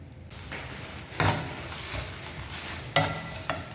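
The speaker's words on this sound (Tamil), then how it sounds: "ஸோ இது கொஞ்சம் நல்லா ஃப்ரை பண்ணிக்கோங்க." A fish roll filling fries in oil in a pan with a steady sizzle, broken by a few sharp knocks and scrapes as it is stirred, all heard close up.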